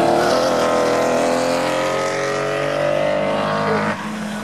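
Race car engine noise from a circuit, a steady loud motor drone that holds for about four seconds and then drops slightly, with no talking.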